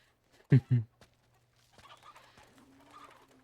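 Chickens in the video game Uncharted 2: two short, loud clucks come close together near the start, then faint murmuring talk and low background sounds follow.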